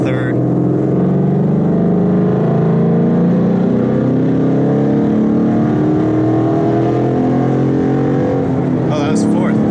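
A Ford Mustang 5.0 engine drones loudly and climbs in pitch as it accelerates, with a brief dip and rise as it shifts into third gear, heard from inside the car.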